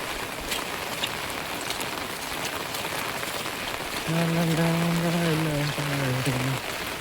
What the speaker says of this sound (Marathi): आणि पाऊस कसलो चालू आहे बघा